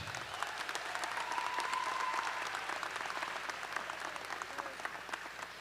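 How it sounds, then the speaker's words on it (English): Steady applause from a graduate commencement audience, a dense patter of many hands clapping at moderate distance, holding evenly for several seconds without voices. "A round of applause for Dr."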